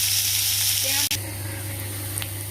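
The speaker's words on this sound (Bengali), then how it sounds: "ভাজবো, ভাজতে ভাজতে আলুও হয়ে যাবে, গাজরও হয়ে যাবে।" Potatoes and carrots frying in a pan with little oil, a steady close sizzle that holds throughout with one brief dropout near the middle.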